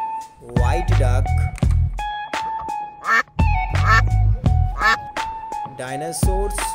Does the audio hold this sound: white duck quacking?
yes